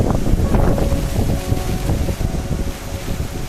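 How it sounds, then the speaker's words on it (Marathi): Strong wind roars steadily and loudly against the microphone at Umbrella waterfall in Bhandardara during heavy rain, a dense continuous rush with gusty swells and no voices. "वाऱ्याचा आवाज येत असेल तुम्हाला"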